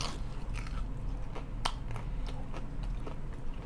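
Crisp, hard thin-crust Walmart frozen pizza is bitten and chewed up close, several sharp crunches over a few seconds with low chewing noise between them.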